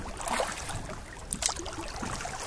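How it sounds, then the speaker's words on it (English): A kayak paddle dips and pulls through water in a brief outdoor stretch, soft splashes and drips rising twice over a faint wind-blown background. "we've been paddling 20 minutes"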